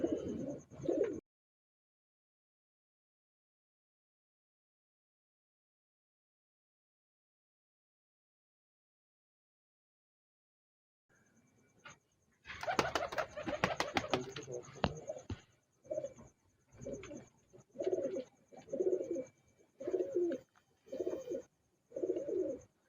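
Sialkoti Jonsiry pigeons cooing in a loft, a run of soft, repeated rhythmic coos after a long silence, close and fairly quiet, with some wing or body rustling mixed in.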